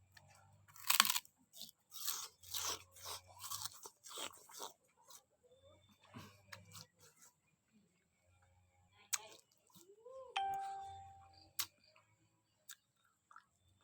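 Sugarcane being bitten and chewed close up, a run of wet crunching bites and tearing chews in irregular rhythm, then quieter gnawing with brief pauses and faint background noises.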